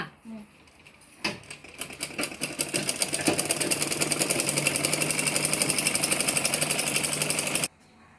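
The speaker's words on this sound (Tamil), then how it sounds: "இப்போது இது மேலே ஒரு தையல் நம்ம படி தையல் போடணும்" A sewing machine stitches fabric for a bag, starting with a few slow thumps before running into a steady, rapid mechanical clatter that stops abruptly; a voice is briefly heard.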